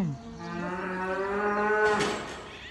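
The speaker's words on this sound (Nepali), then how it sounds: "अब यो चाहिँ गाई फार्म हो।" A cow lows once on a cattle farm in South Korea, a long, clear moo lasting over two seconds, heard alone and fairly close.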